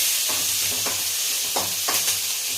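Onions and curry leaves fry in a hot pan with a steady loud sizzle, broken by a few spoon stirs and scrapes at irregular intervals, close by and with no voices.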